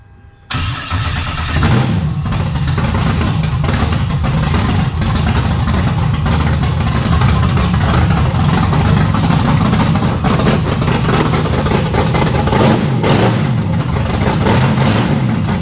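LS V8 swapped into a Genesis cranks briefly, then catches and settles into a loud, steady, rumbling idle with slight revs, close and continuous with no talking.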